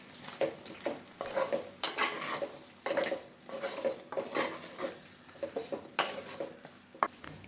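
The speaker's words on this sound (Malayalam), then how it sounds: "മുരിങ്ങയ്ക്ക ചെറുതായിട്ട് പോലെ അരിഞ്ഞത് ചേർത്ത് കൊടുത്ത് നന്നായിട്ടൊന്ന് വഴറ്റി കൊടുക്കുക" Finely chopped drumsticks are stirred and sautéed in a pan, with repeated close scraping strokes of a utensil against the metal over a soft sizzle, in an irregular rhythm with no voices.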